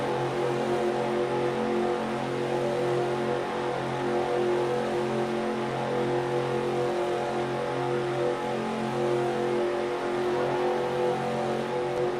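Race car engines at a Cup Series Round of 12 race, the Mr Beast 200 at Orlando, drone and rev in a continuous, loud, layered roar as the pace car pulls in.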